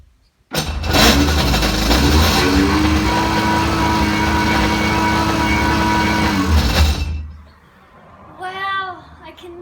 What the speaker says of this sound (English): we shall start the engine.